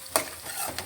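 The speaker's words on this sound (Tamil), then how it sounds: "வெங்காயம் வந்து லைட்டாக குக்கானா போதும்." Onions frying lightly in a pan, a soft steady sizzle with a couple of brief stirring scrapes, close and alone without talk.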